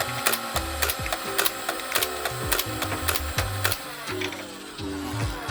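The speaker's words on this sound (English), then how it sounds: "you pull it halfway to rev up the flywheels, and to fire, pull it fully." Buzzbee Alpha Auto 72 foam dart blaster revving its flywheels and firing, a loud, close sequence of rapid mechanical shots at a steady, fairly slow automatic rate, with the motor whirring down at the end.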